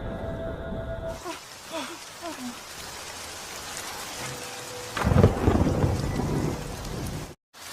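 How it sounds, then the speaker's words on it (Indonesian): A film thunderstorm with lightning striking and rain pouring, a dense steady hiss of rain, rumbling thunder and a heavy crash swelling near the end before an abrupt cut, with a low voice-like tone early on. "Terlihat petir menyambar dan langit mulai mendung"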